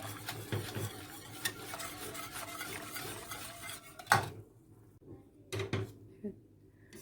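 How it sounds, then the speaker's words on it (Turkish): Custard cream for tiramisu stirred in a pot on the stove, a soft continuous scraping swirl that stops partway through, followed by a couple of light clinks, with a person talking over it. "Harika bir kıvam alması için bu şekilde karıştırıyoruz."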